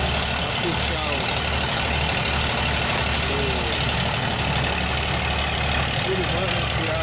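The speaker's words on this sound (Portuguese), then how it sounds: "Tem mais outro moinho ali, ó. 24 horas trabalhando aí." A gold ore mill running around the clock at a small community mining site, heard as a steady low mechanical drone with a throbbing engine-like rumble and broadband grinding noise, continuous and fairly close.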